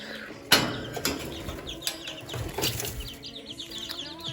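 Small chicks stir and flap their wings in a duckling pen, with a sharp flutter near the start followed by several softer, quick wing bursts and light rustling close by.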